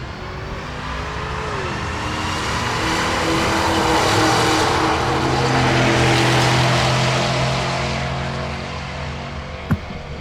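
Drag race at Tulsa Raceway Park between a white fifth-generation Camaro and a Porsche Cayenne, engines roaring down the strip, a broad sustained rush that builds and fades at a distance, ending with a sharp click.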